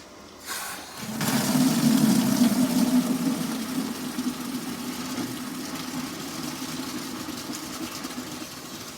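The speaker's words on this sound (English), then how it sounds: "I'm going to turn on the water." Water surges through ProPress-fitted plumbing once the supply is opened, a sudden steady rushing hiss with a low hum that swells over the first few seconds and then holds constant.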